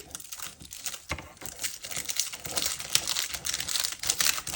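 Glassine paper bag being pulled apart at the seams, giving close, continuous crinkling and crackling with brief tearing bursts throughout, no talking.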